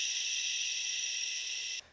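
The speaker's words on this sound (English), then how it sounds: "White noise? Well, white noise sounds like this." White noise played as a sleep aid: a steady, bright, airy hiss at moderate level that cuts off abruptly just before the end, alone with no voices.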